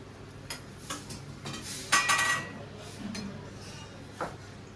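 Chickpeas tipped into an oiled masala pan and stirred, giving a brief burst of clattering and scraping in the middle amid a few light knocks of utensil on pan, with quiet room noise around it.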